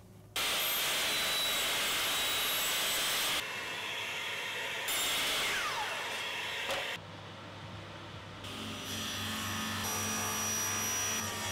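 Table saw ripping wood for a Murphy wall sofa bed in a small apartment workshop, a loud, steady whining roar with sustained high pitch that shifts in tone as the blade cuts through, with no talking.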